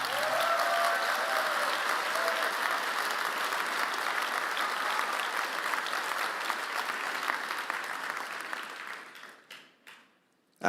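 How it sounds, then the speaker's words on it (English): An audience applauds at the final of the 33rd Vis Moot arbitration competition, a full, steady round of clapping from a large crowd that holds for about nine seconds before thinning out and stopping. "A round of applause."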